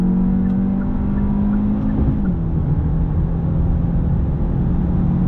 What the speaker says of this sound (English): Dropping it down to first gear. On throttle, here we go.